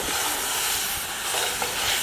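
Two kilos of chicken go into a tomato-onion paste frying for Kabuli pulao, giving a steady, loud, close sizzle with stirring scrapes throughout and no talk.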